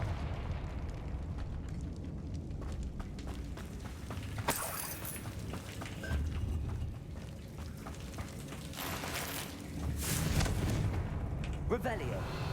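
Confringo fire spell blasts from the Hogwarts Legacy video game on hard mode, heard as several loud, bright bursts over a rumbling game background, with a voice talking at times.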